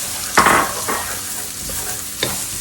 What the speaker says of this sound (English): Our wok is hot, And I'm going to add in the 2 onions that we cut.